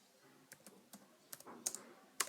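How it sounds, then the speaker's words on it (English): Keys on a computer keyboard are tapped in a short, uneven burst of crisp clicks while a domain name is typed, close by, with no talking. "I am typing this domain."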